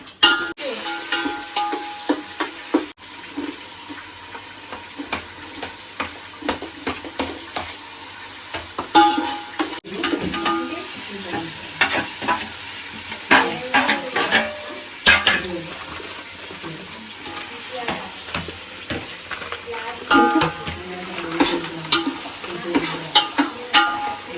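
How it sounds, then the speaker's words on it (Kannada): Tomato, onion, chili and coriander fry in a pan for biryani, with a soft sizzle under repeated scraping and stirring strokes, some splashy water-like sounds, and occasional faint voices. "ಟೊಮೊಟೊ, ಈರುಳ್ಳಿ, ಮೆಣಸಿನ್ಕಾಯಿ, ಕೊತ್ತಂಬರಿ ಸೊಪ್ಪು ಎಲ್ಲಾನು ಹಾಕಿ ಫ್ರೈ ಮಾಡ್ತಿದ್ದೀನಿ"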